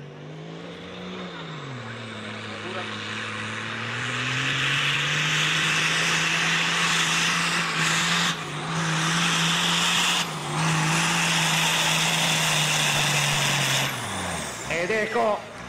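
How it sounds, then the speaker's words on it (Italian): A Same Drago tractor with an Iveco 8360 engine pulls at full throttle in a tractor-pulling competition. The loud engine roar climbs in pitch, holds a strained drone for a long stretch, then drops away near the end, with an announcer's voice over it. "il Same Drago motorizzato con un motore Iveco 8360 ha dato il meglio di sé"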